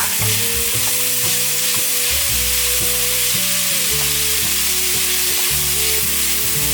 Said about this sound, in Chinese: 小黄瓜，再来些毛豆， 快速的翻炒。